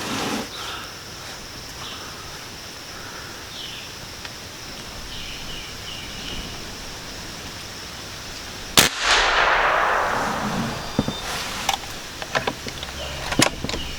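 A Challenger Elite .45 caliber regulated air rifle firing a hand-loaded swage slug gives one sharp, loud report with a short, muffled tail and no ringing ping. Quiet outdoor ambience with insects comes before the shot, and faint clicks and handling noises follow.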